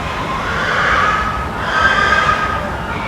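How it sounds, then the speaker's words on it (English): Shrill, sustained squealing cries of pigs rise and fall in two long bursts over a noisy background, like animals screaming in distress. "That's when you can hear the pigs fighting for their lives."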